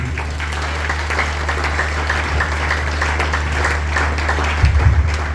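A church congregation at a Sunday worship service applauds in a continuous, even patter of clapping that carries on steadily from start to finish.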